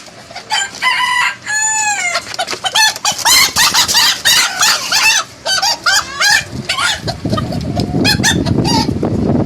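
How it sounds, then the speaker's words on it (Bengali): Black Cochin hens and roosters on a fancy poultry farm cluck and call in a dense, loud chorus of overlapping squawks, with a rooster-like crow rising among them and a rough rustling background growing toward the end. "এই মুরগিগুলো হচ্ছে আমার ব্ল্যাক কোচিন"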